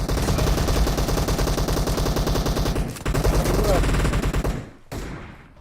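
Rapid automatic gunfire in the PUBG Mobile battle royale game, loud and sustained bursts that pause briefly near the middle, resume, then cut off with a final shot near the end.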